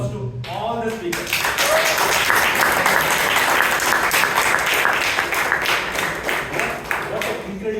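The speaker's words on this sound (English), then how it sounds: "let us give a loud round of applause to all the speakers" Audience at a Toastmasters meeting in Bangalore bursts into loud, sustained applause after a brief spoken lead-in, dense clapping filling the room steadily to the end.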